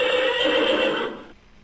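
A ventriloquist's dummy voice imitating a horse: one shrill, wavering whinny lasting about a second, loud and close, then cutting off abruptly.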